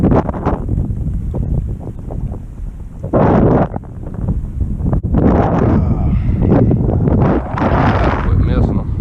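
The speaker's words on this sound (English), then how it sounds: "just a bit breezy today." Breezy wind buffets the microphone on a boat trolling for crappie on a lake, gusting loudly in uneven bursts, with someone talking at times.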